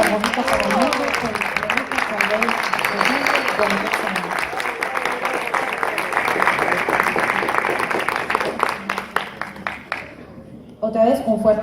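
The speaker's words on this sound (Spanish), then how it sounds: "Otra vez, un fuerte aplauso para el líder de esa experiencia" A crowd gives sustained applause for the winning education project at a departmental education forum in Risaralda. Dense clapping continues with a voice over it at first, then thins into scattered claps near the end.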